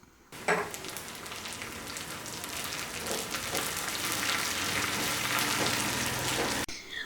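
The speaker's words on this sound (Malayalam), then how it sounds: "ഉള്ളിയുടെ കളറെല്ലാം മാറി ഗോൾഡൻ ബ്രൗൺ കളർ ആവുന്നത് വരെ വേണം ഇളക്കി കൊടുക്കാനേ" Onions and curry leaves fry and sizzle in hot oil while being stirred for a Kerala-style fish curry. A steady, close, dense crackle runs throughout, with light scraping of stirring and no talk.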